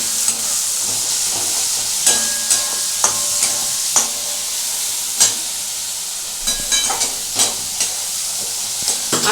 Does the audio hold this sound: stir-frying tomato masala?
yes